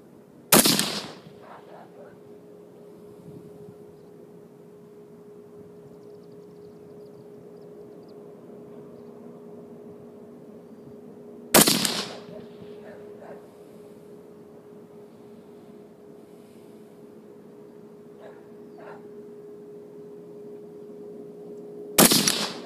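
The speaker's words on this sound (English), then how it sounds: "Okay, there's three shots on the first face." A semi-auto precision rifle fires an unsupported three-shot group: three sharp, loud reports spaced roughly eleven seconds apart, with a quiet steady hum filling the gaps between shots.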